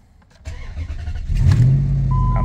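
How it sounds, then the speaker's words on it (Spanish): Car engine cranking and starting, a short whirring crank followed by the engine catching into a loud, steady idle, close up with no talking. "vamos a ver si prende ahorita."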